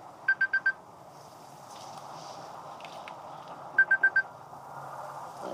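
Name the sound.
phone ringing with incoming call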